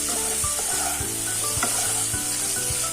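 Turmeric is stirred into a sweet tomato chutney in a frying pan, a steady sizzle broken by repeated scraping strokes of the spoon, close up.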